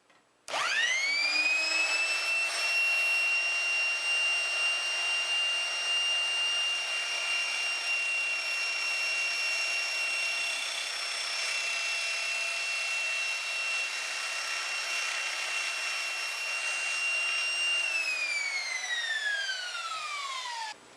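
A small circular saw whines steadily as it cuts a notch in a wooden Adirondack chair part. The loud, sustained tone holds for about seventeen seconds and then winds down as the blade slows.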